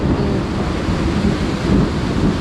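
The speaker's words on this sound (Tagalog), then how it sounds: "kahit napakalakas pa ng ulan po oh" Heavy rain pours down over a house with thunder, a loud, dense roar that rumbles continuously and swells slightly near the end.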